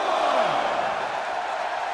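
Wrestling arena crowd in the WWE 2K17 video game, a continuous moderate roar of cheering with a brief rising whoop near the start, heard without talk over it.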